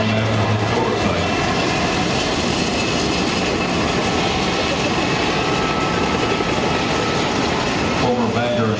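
Lackawanna-painted EMD F-unit diesel locomotives, among the oldest operational F units, based in Scranton, Pennsylvania, give a loud, continuous engine and rail rumble that holds steady throughout.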